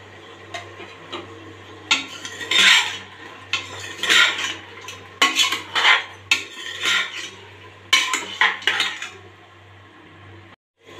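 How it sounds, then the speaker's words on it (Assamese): Onions stir-fried in a pan for a local chicken dish, a utensil scraping and clinking against the metal in irregular bursts over a steady low hum, with no talking. "পিঁয়াজখিনি অলপ ভুনি ল'ম"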